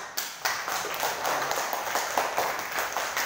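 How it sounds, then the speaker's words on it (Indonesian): A small class of student teachers claps together in a classroom, the hands beating in a quick, steady patter for about three seconds with no voices over it. "Tepuk tangan."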